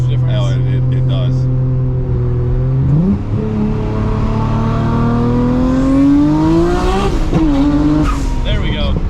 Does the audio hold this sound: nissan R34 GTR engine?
yes